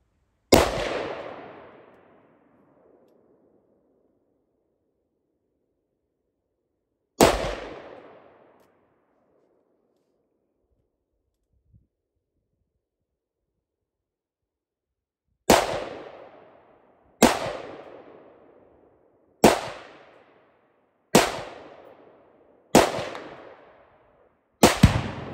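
Rifle shots ring out at a target about 50 yards off, two widely spaced blasts followed by a rapid run of six more, each loud, sharp and trailing a brief echo across an open outdoor range.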